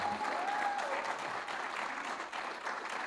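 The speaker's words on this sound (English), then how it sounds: "Give yourselves a round of applause." A room full of people at a media awards ceremony claps in sustained, even applause, dense and steady for the whole stretch with no break.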